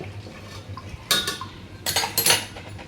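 Metal lid set onto a pot of simmering chicken curry, giving two clattering clinks of metal on metal close by, with a faint low simmer beneath.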